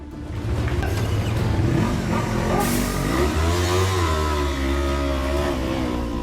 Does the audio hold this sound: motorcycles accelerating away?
yes